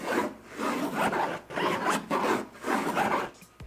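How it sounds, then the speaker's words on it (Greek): Zipper on the Sonos Ace headphone case being pulled, several long rasping strokes in a steady rhythm, close and clear with no talking. "Ακόμα και το φερμουάρ"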